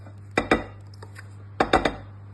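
A hot pot of melted chocolate lifted and handled with a kitchen towel, giving two clusters of sharp metallic knocks and clinks, each a quick double or triple hit, fairly close with a low steady hum underneath.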